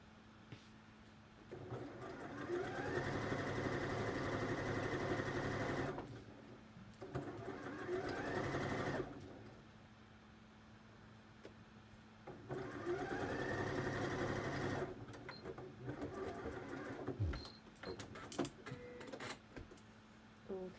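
A home sewing machine runs a long straight stitch on a wrap dress, in several separate bursts of a few seconds each with quiet pauses and fabric handling between them, fairly close but soft.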